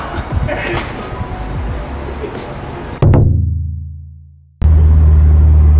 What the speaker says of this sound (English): so I installed my exhaust. This is how it sounds in the car